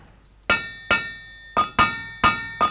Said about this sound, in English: We need to do a heavy hit, a draw